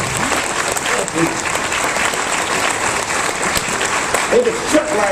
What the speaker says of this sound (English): Let's give Wild Bill another big round of applause.